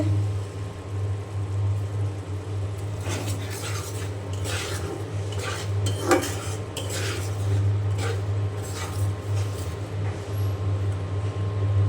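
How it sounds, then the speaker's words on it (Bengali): Spice paste for chicken kosha curry stirred in a pot, with intermittent metallic scraping and clinking of a spoon against the pot over a low steady hum, close and moderately loud. "মশলাটা এখন ভালো করে কষিয়ে নেব"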